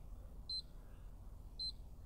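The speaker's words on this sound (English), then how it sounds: "the receiver on the appliance will issue a series of beeps indicating the ignition sequence is underway" Two short, high electronic beeps about a second apart from a gas appliance's receiver as its ignition sequence starts, over a low background rumble.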